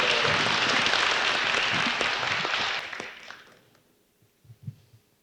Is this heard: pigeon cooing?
no